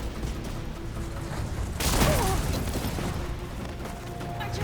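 A cannon booms in Horizon Forbidden West amid battle noise, one loud broadband blast hitting midway over a dense rumbling game soundscape with clanking mechanisms.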